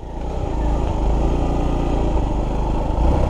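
A Suzuki GD 110 motorcycle climbing uphill, its engine droning loud and steady with a low pulsing rumble, close and continuous throughout, no talking.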